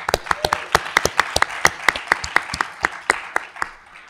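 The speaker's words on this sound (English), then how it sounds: "Round of applause." A small crowd claps for a few seconds, with individual hand claps distinctly audible in an uneven, lively rhythm.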